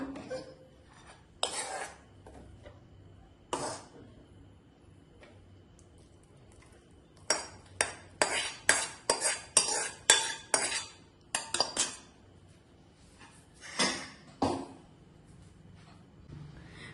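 Shavige payasam is ladled from a pot into a serving bowl, with a run of sharp metallic clinks and scrapes of a spoon against the vessels, sparse at first and then quick and clustered.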